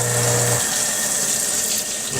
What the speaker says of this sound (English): We'll just run some hot water through it.